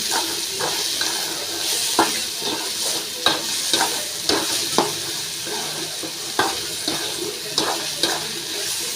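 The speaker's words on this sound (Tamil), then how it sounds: "போதுமான அளவு சால்ட் நல்லா வதக்கிடலாம்." Vegetables sizzle in a pan while being sautéed with salt, a steady bright frying hiss broken by repeated sharp scrapes and stirring clatters.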